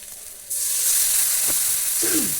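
Garlic paste and spices hit hot oil in a pan for a raw green banana curry, bursting into a loud, continuous close sizzle and hiss with a couple of faint stirring scrapes.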